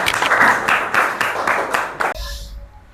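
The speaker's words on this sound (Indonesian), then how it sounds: "Oke, beri tepuk tangan dan semangat untuk semuanya." Group of teachers clapping in rhythmic bursts, several quick sharp claps in a row, close and fairly loud, ending abruptly into quiet.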